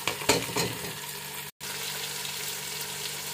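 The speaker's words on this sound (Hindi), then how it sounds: "उसके बाद हम ऐड कर देंगे 2 टमाटर कटे हुए और ये इतनी हरी मिर्च।" Chopped tomatoes and green chillies fry in hot oil, giving a steady, close sizzle and crackle with a brief break in the middle.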